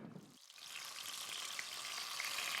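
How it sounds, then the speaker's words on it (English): Steady crackling sizzle of food frying in hot oil, continuous and close, with a brief quiet gap near the start before the sizzle fills in. "Bring that up to temperature and then it's frying time."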